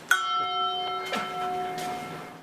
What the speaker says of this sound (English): Sounds like the bell to finish the episode.